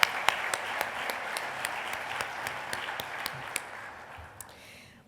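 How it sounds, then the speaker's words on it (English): Audience applause at a family and private business awards ceremony, a steady dense clapping from a crowd that holds for several seconds with a few sharper individual claps and slowly tapers off at the end. "Another round of applause, if you would, please, for Batesville."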